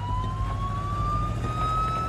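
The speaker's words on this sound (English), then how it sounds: "An ambulance rushed Sawyer to a private hospital, First Consultants Medical Center." An ambulance siren rises in a slow, steady high wail over rumbling traffic noise, loud and close throughout with no speech.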